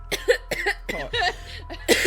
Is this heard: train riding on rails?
no